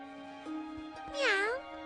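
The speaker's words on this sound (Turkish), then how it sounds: "Belki de evlerine bir sokak kedisi girmiştir." A cartoon cat meows once, a rising and falling call over a steady background hum and faint soft noises, close and clear, with no talking.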